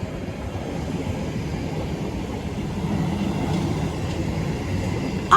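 A Manchester Metrolink tram heading to the Trafford Centre rolls past near the Castlefield tram stop, giving a steady low rumble that builds slightly toward the end, with no voices.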